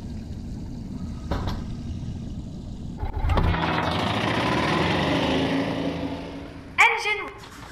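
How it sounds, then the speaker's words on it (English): In the VR game I Expect You To Die, an engine kicks on with a sudden thump and settles into a loud, steady mechanical hum that later gives way to a sharp burst, with a voice speaking over it. "The engine is engaged and we are starting our ascent."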